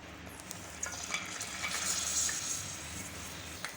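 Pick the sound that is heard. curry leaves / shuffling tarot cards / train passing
curry leaves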